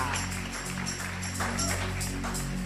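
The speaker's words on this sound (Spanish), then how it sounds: "Un aplauso fuerte al Dios que vive." A church congregation applauds in a sustained, uneven wash of clapping heard at a moderate distance, with a low background hum underneath.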